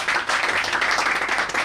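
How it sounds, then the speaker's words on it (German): Dense crowd applause at an amateur football club event, steady clapping filling the whole moment without pause. "Applaus!"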